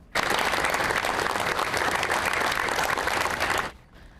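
Sustained applause from two lines of police officers outside Mount Sinai St. Luke's hospital as a wounded colleague is wheeled out, loud and steady for over three seconds before cutting off abruptly.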